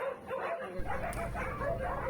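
A few soft barks and whimpering yips from dogs of various breeds, including Belgian Shepherds, at a farm, fairly faint and somewhat distant, over a muffled background.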